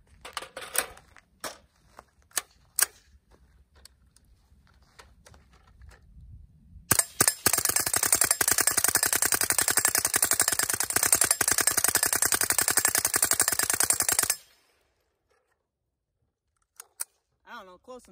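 A suppressed rifle with a binary trigger and drum magazine fires a few single shots, then a long rapid burst of dense, evenly spaced cracks lasting several seconds, then falls silent with two last pops, heard up close.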